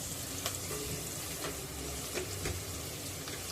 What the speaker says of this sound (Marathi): थोडासा कढीपत्ता हे आपल्याला परतून घ्यायचं आहे कांदा गुलाबी रंगावर येईल इतका परतायचा आहे